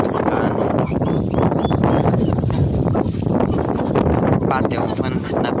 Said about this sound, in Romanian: A venit o rafală puternică de vânt